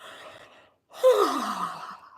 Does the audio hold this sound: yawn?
yes